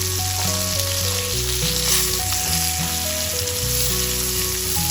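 Pomfret fish fries in hot oil on a tawa, giving a steady, close sizzle and crackle that runs continuously without pause.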